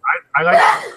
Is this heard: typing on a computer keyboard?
no